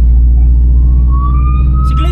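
A police car siren rises as a faint, thin wail behind a loud, steady rumble of car engine and road noise during a nighttime drive, with a brief burst of voices near the end.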